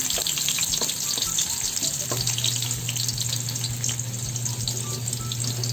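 Ginger sautés in a pan with a steady close sizzle and crackle, a few light scrapes and clicks scattered through it, and no voices.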